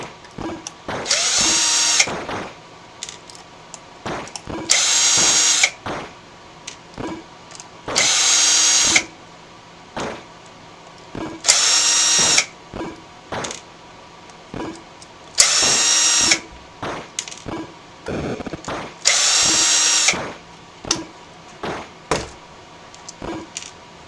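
Power drill backing screws out of an Atari 2600 console: six loud, close whirring bursts of a second or two each at a steady pace, with small clicks and handling knocks between them.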